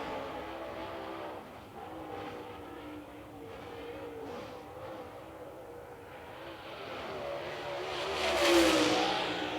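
A super late model race car motors past the start-finish line during qualifying at Lancaster Motor Speedway, its engine droning steadily at a distance before swelling loudly into a close pass near the end.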